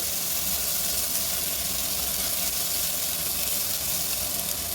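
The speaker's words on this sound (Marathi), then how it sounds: "त्याच्यानंतर मी गाजर टाकते आणि मोठ्या फ्लेमवर ते परतू द्यायचं" Carrots and onion frying in a pan over a high flame give a loud, unbroken hiss and sizzle that holds steady from start to finish, with no stirring or voices.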